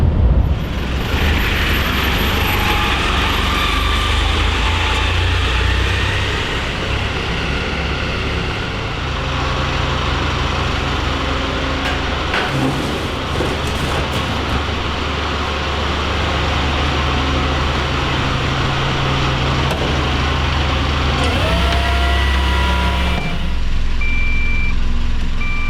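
A garbage mini truck on an organics collection run rumbles steadily up close while its reversing alarm beeps. The engine drones loudly throughout, with a few mechanical clanks near the end and no talking.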